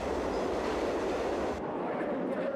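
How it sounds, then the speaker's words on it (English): A subway train rumbles loudly and steadily into a station, a dense roar of wheels and cars that cuts off abruptly partway through, leaving a quieter hum. "The train was due to arrive at the station in less than a minute."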